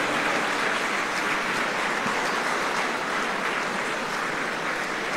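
Sustained audience applause at a convocation honoring teachers, a steady dense wash of many hands clapping throughout with no talk over it.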